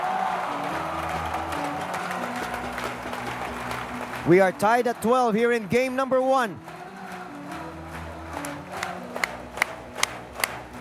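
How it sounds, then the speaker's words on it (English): Arena crowd at a badminton match in the Phil Sports Arena, a burst of loud rhythmic chanting and cheering in the middle, with commentary before and after and sharp shuttle hits toward the end. "the crowd here at the Phil Sports Arena absolutely thrilled at what they are witnessing"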